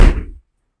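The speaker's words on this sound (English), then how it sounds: "Let me get the door." A door thuds once, close and fairly loud, then fades out quickly into silence.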